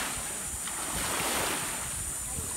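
Sea waves wash steadily against the shore at Lamanok Island, a continuous broadband surf roar with wind buffeting the microphone, moderately loud and unbroken throughout.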